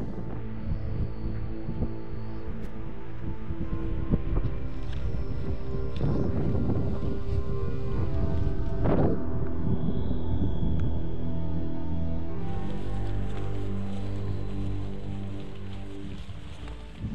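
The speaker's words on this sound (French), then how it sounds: "J'espère que vous m'entendez avec tout ce vent" Strong wind buffets a microphone outdoors at Creux-du-Van in the Jura mountains, a continuous loud low rumble with gusty surges and some faint higher whistling tones.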